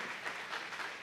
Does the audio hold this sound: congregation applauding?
yes